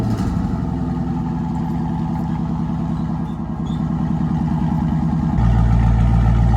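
A Scat Pack car fitted with an aftermarket exhaust kit idles with a loud, steady, deep burble that swells into a heavier rumble near the end, close and continuous, with no talk.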